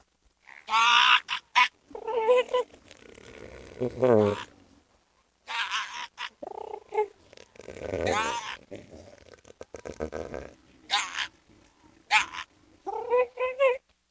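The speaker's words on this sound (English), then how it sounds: "It turns out elephant seals just sound like evil chickens." Harsh, throaty bursts of elephant seal vocalizing, loud and close, coming in irregular clusters separated by short pauses, like a deep guttural croak.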